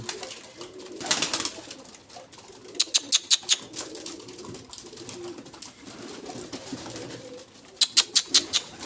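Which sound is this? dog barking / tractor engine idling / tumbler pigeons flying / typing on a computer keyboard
tumbler pigeons flying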